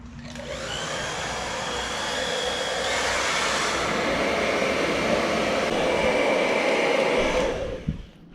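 A heat gun blows a steady loud rush of hot air over smoke tint film being applied to a 2018-2019 Mustang GT light, running evenly for several seconds up close before cutting off at the end.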